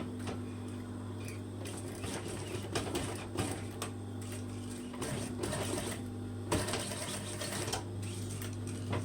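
A sewing machine runs in short bursts to top-stitch a shortened jeans hem, giving a close rapid whirring stitch rhythm over a steady low motor hum, with brief pauses between runs.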